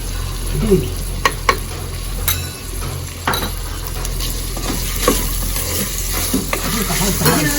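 Soya chunks with salt sauté in a pot for one-pot biryani, a steady close sizzle broken by sharp clinks and scrapes of a metal spoon against the pot, with faint voices in the background.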